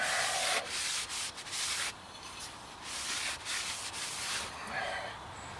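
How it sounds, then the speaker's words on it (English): Brake cleaner sprays onto a brake rotor of a 2000 Nissan Maxima during a front brake job, in several close hissing bursts with short gaps between them and no speech. "Brake cleaner. I like to give it just a quick douse."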